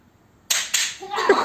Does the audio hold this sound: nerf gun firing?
yes